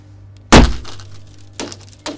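A steel-tipped emergency hammer strikes the corner of a train coach window, giving one loud sharp impact with breaking glass, followed by two fainter knocks as the blows continue.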